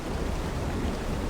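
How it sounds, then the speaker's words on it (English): Steady, dense rain hisses evenly across a short stretch in the video game ARK Survival Evolved, with no voices. "it started raining"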